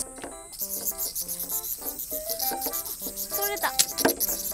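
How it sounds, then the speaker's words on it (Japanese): Cicadas sing outdoors in summer, a dense, loud, continuous buzzing chorus with pulsing rhythm, while people move about and speak nearby. "お腹空いてきますね、セミの音で。"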